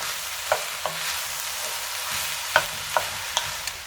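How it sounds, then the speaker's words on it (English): Vegetables for Sicilian caponata cook over medium-high heat in a heavy pot, giving a steady soft sizzle broken by several sharp scrape-and-clack strokes of a spoon being stirred through, close and with no voice. "continuing on medium-high heat, we're going to cook these for approximately 10 minutes until they've softened but not mushy"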